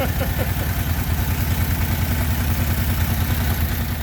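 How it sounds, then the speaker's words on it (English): A rebuilt Kawasaki Brute Force engine runs on both cylinders, a steady close rumbling idle with an even chugging pulse and light mechanical clatter, constant and loud throughout. "Hitting on both cylinders now?"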